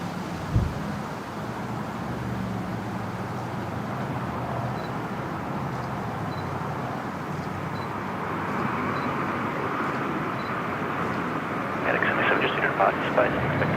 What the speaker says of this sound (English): now next departure is Qantas 988 heading up to Mackay, the 737-800